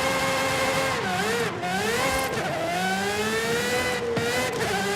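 A car engine revs in a racing video game, its loud, continuous whine rising and falling in pitch with a few abrupt gear-change dips.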